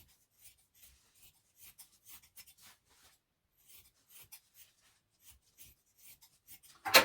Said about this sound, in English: we are going to cut off the excess garment